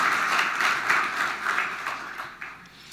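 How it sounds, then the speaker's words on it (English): Brief audience applause for sponsor Delta Dental at the Pancakes & Politics 2023 kickoff, a steady round of clapping that gradually fades. "Please give Delta Dental a round of applause."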